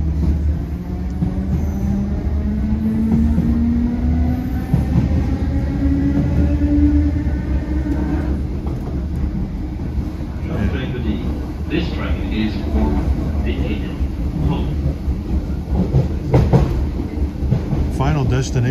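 Riding on board an Irish Rail Class 8100 EMU between Greystones and Dublin Connolly, a steady low rumble of wheels on track with a rising and falling motor whine, rattles and clicks, and someone talking over it.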